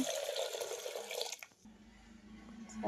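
Water pours and splashes as red lentils are rinsed in a container for Mysore dal, a loud running stream in the first half giving way to quieter trickling and dripping.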